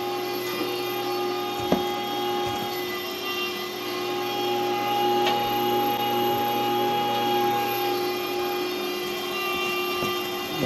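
A Meatyourmaker electric meat grinder runs cold meat through the grinder plate a second time, with a steady loud motor whine and hum and occasional faint clicks, no voices.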